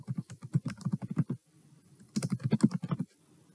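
Typing on a computer keyboard comes in two quick bursts of steady key clicks, close and clear, separated by a short pause, with no talking.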